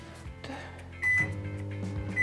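A microwave oven hums steadily in a home kitchen, broken by two short, bright electronic beeps about a second apart.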